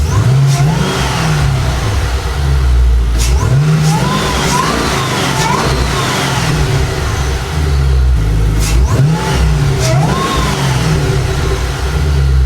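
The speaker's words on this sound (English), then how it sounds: "a quick revving clip right here" A Camaro ZL1 fitted with a Rotofab intake revs close up in a loud deep roar, with two rounds of rising throttle blips and a brief drop to idle between them.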